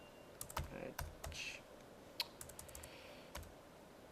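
Rapid uneven clicks of a computer keyboard as a formula is typed into a spreadsheet cell, close and fairly quiet, with short pauses between bursts of keystrokes.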